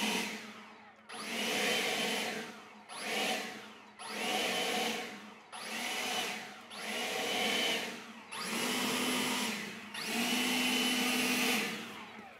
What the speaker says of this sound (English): So we could pop it on the leaf blower.